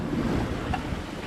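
Wind buffets the microphone and waves slosh against a sailboat at sea in 12 to 15 knot north-northwesterly winds on bumpy water, a low, rumbling wash with no voices.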